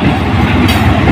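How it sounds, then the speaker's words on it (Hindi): A passenger train rolls into a railway station, its loud, steady rumble and wheel clatter filling the whole moment up close with no talk over it. "चेक करो फैली फैली ट्रेन आ चुकी है"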